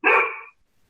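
A single loud, close dog bark, one drawn-out yelp lasting about half a second, followed by near silence.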